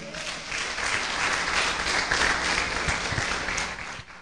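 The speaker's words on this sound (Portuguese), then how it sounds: "Você pode aplaudir o Senhor?" A church congregation at a worship service breaks into applause, a dense, steady clapping from many hands that holds evenly before tapering off at the end.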